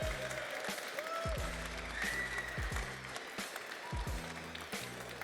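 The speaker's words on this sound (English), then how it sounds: "clap it up for Hayden Cassidy one time" Audience applause at a live barbering show, steady clapping with a heavy repeating music beat underneath and some cheering voices on top.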